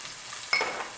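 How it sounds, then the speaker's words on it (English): Diced onions hit a hot pan, a quiet hiss that jumps into a sharper, brighter sizzle halfway through, alone with no voices. "you want to put a little piece of onions in there, so you want to hear the sizzle"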